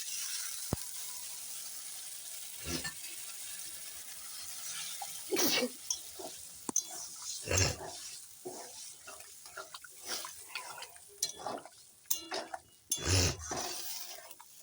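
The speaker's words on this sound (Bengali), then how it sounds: "আলুও ভাজা হয়ে গেছে এখন জল দিই" Water is poured into a cooking pot of frying spices and potatoes, giving intermittent splashing bursts and clinks of utensils against metal. The sound is fairly close but quiet, with gaps between the pours.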